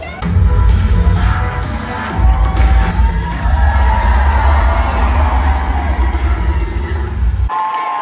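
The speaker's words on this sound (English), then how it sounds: "Check out the crowd. There's a hell of a lot of people here." A large, dense crowd roars and yells at the Howl-O-Scream haunted Halloween event in Tampa, a loud continuous wash of voices and whoops that cuts off abruptly near the end.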